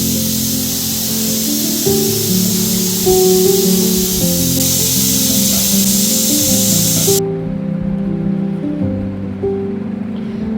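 A pressure cooker of mutton curry with ginger-garlic paste lets out a loud, steady hiss of escaping steam over a low tonal hum. The hiss cuts off abruptly about two-thirds through, leaving the quieter hum.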